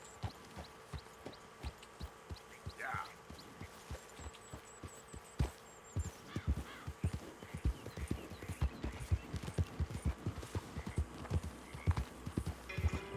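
Horse hooves clip-clopping on the ground in the video game Red Dead Redemption 2, a steady walking rhythm of fairly close hoofbeats alone, with a brief whinny-like cry early on.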